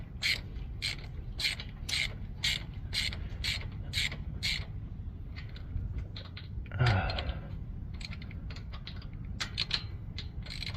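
Hand ratchet cranking a small-block Chevy Vortec engine fitted with roller rockers, a steady run of sharp clicking bursts with quieter creaks and mechanical noises in between, heard up close.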